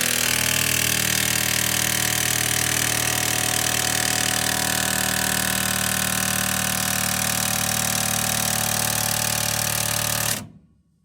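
An impact wrench working on the king pins of a 1948-55 Chevrolet 1.5 or 2 ton truck, hammering loudly and continuously for about ten seconds before cutting off abruptly.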